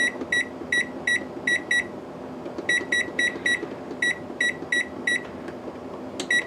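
A kitchen timer, set for simmering rice while making vegan sushi, beeps in quick bursts of four to five high, sharp tones repeated at steady intervals, close by over a low background hum.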